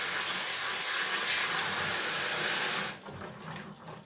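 Kitchen tap water runs in a steady, loud rush while food is rinsed and drained, then cuts off abruptly, leaving quieter dripping and trickling.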